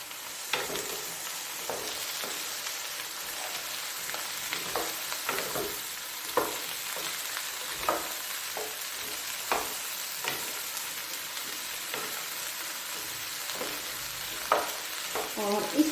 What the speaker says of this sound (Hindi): अब मैं इसमें भिंडी डालूंगी, उसको थोड़ा सा मैंने फ्राई कर दिया।